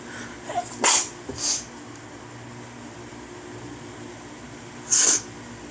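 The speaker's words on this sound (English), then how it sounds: "never sneeze on the camera, especially on YouTube" A few sharp, breathy sneezes close to the microphone, two in quick succession and another a few seconds later, over a faint steady hum.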